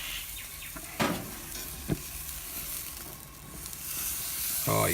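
Steak sizzles on a hot griddle with a steady, close frying hiss throughout, broken by a couple of sharp clinks or scrapes as the meat is handled.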